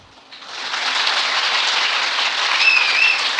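Sustained audience applause in a Tamil lecture hall, a dense steady clapping that swells in and holds loud for several seconds with no talk over it.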